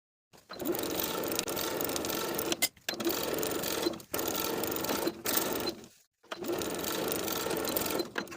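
A sewing machine stitches a 5/8 inch seam around a lined coat sleeve, loud and close, running in long steady bursts with brief pauses between them.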